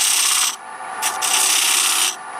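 An old repurposed gouge used as a scraper, cutting grooves into wood on a lathe. It makes a loud, bright rasping scrape in two long passes split by a short break, heard close with no talk.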